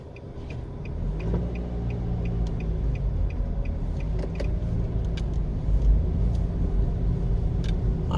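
Car cruising slowly through a hilly Kingston neighbourhood, a steady low engine rumble inside the cabin with faint rattles and small clicks, no one talking.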